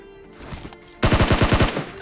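A video game gun fires a fast burst of about eight rapid shots at an enemy, following a short stretch of faint game ambience.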